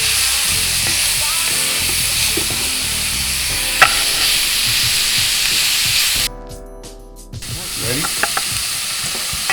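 Spinach sizzles and fries steadily in a hot pan, a loud continuous crackling hiss that dips briefly near the end before resuming, with a short spoken word over it.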